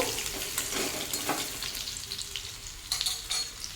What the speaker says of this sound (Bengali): তো রসুনটাকেও একটু ভেজে নেব।